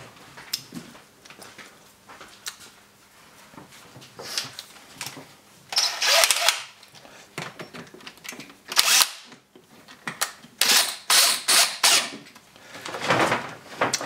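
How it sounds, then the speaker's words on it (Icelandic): A small power drill used in honey processing whirs in short bursts that rise and cut off, with louder revving spells near the end amid clattering handling noise. "Þannig að ég tengi bara borvélina á þennan staut hérna"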